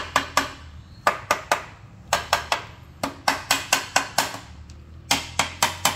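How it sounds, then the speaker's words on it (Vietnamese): A worn rubber mallet knocks on a dried, hardened concrete mold for a hexagonal stool, 60 tall and 40 wide, in quick close bursts of two to four sharp thuds separated by short pauses, with no talking. "gõ bánh luôn. Hư luôn cái đầu búa cao su luôn."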